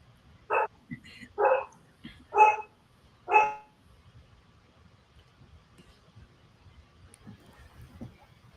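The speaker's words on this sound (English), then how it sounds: "What's the dog's name?" Dog barking four times in a row, sharp and fairly close, followed by quiet room noise with faint low murmurs.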